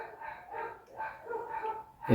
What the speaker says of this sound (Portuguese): Os cachorros hoje não estão dando trégua, então peço desculpa aí pelo barulho